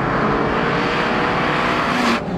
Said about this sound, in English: as hard as you can rev the engine, it's just a constant surge.